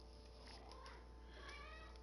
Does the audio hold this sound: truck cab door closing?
no